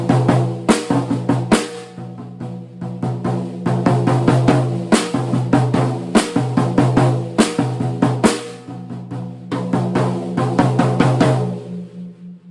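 A snare drum groove played with right-hand-lead sticking and accented strokes standing out, with steady, crisp, close hits in a continuous pattern and no talk.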